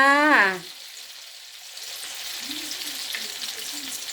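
Steady crackling sizzle of bananas deep-frying in hot oil, close and continuous, after a short voice at the start.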